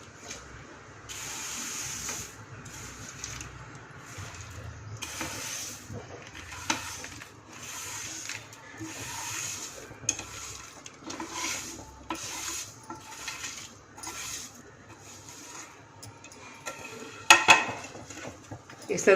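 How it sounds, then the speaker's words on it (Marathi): A spoon scrapes and clinks around a pot of sheer khurma, milk cooked with sugar, vermicelli and dry fruits, in repeated close stirring strokes with a sharper metallic knock near the end. "असं हलवत राहायचं."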